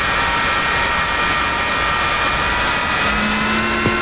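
Jet engine spool-up on an F-4E Phantom during a cockpit start in Digital Combat Simulator, a steady broadband roar with a rising whine, constant and loud throughout with no talking.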